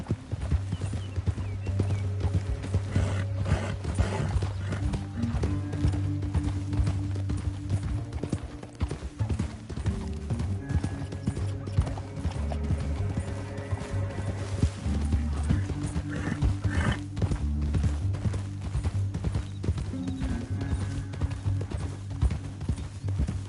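Horses galloping through a canyon in a Western, a dense and continuous clip-clop of hooves with occasional whinnies, loud and close, blended with a sustained low musical score.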